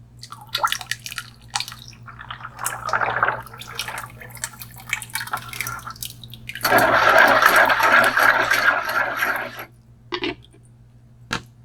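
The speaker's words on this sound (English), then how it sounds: "So I'm going to go ahead and pour that in." A homemade beer soap mixture poured into a large bucket: scattered drips and splashes at first, then a steady heavy pour for about three seconds before trailing off into a few final drips over a low background hum.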